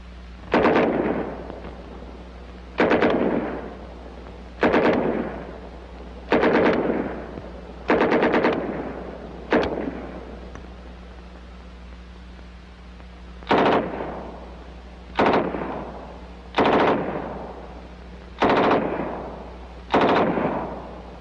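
An M3 .45 caliber submachine gun fires about eleven short, loud bursts of rapid automatic fire, spaced a second or two apart with a brief pause midway, against a low steady hum.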